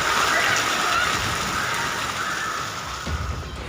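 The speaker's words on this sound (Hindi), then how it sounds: "कार चला रहा शख्स जैसे ही कार से बाहर निकला, कार पानी में पलट गई।" Floodwater surging in an overflowing rain drain during heavy rain in Jalore, Rajasthan, as a stalled car swept into it overturns; a steady, loud, broadband rush of churning water runs throughout.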